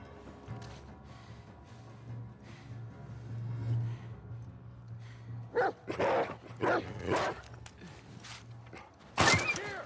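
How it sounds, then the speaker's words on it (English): A dog in The Last of Us Part II barks sharply several times in quick succession over a low steady hum of game ambience, ending with a loud burst. "Another dog."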